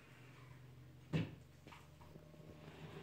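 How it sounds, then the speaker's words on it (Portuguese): A sliding wardrobe door in a bedroom rolls along its track with a single soft thump, followed by faint rustling in a quiet room. "São portas de correr."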